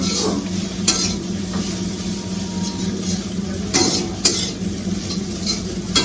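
Maggi noodles stir-fried in a pan, a constant sizzle under intermittent stirring scrapes and clinks of the utensil against the pan, close by.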